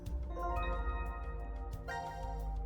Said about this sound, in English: a harpsichord has its strings plucked. Which makes a sound like this.